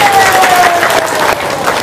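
Applause from a crowd at a spiritual talk on business and prayer, a short burst of dense clapping with some voices mixed in, fairly loud and close throughout.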